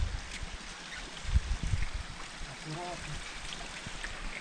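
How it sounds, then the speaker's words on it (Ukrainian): A small mountain stream in the Carpathian Gorgany flows with a soft, steady trickle and gurgle, faint and close, with a few louder splashy moments early on. "Тут маленький потічок."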